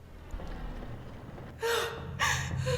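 Two short, sharp gasps come in quick succession from a character in The Mortuary Assistant, a horror game, cutting through a quiet, low ambient background.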